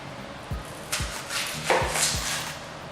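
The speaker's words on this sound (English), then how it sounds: "Cut our onion up." A sharp knife cuts through an onion on a board with four dull, spaced knocks over a few seconds, close and moderately quiet in a kitchen.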